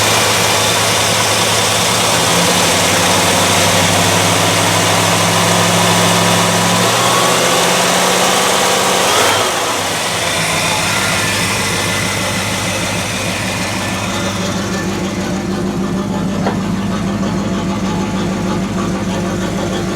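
A 1984 Camaro Z28 engine idles up close with a loud, steady low rumble; the pitch shifts midway as the idle settles into a smoother, slightly quieter drone.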